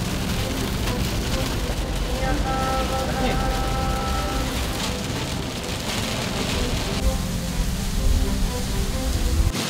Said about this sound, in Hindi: भिलवाड़ा से निकलते ही हमें बहुत ज़्यादा भयानक बारिश मिल गई है